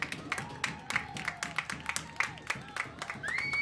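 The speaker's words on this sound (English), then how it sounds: "You can hear the crowd roaring here at the high school." A crowd at a high school boys varsity soccer game cheers and claps after full time, a steady roar broken by sharp whistles, with a long rising whistle near the end.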